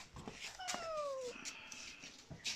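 A cat gives a drawn-out meow with a falling pitch, fairly faint against a quiet indoor background with small knocks, and no speech.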